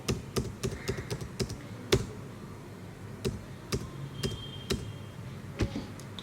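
Computer keyboard keys are pressed during data entry in accounting software: close, crisp keystrokes come in irregular bursts, with short pauses between clusters. No talking.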